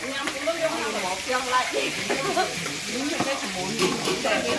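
A lobster fries in hot oil in a wok, giving a steady, close crackling sizzle with stirring scrapes throughout, and voices talking over it.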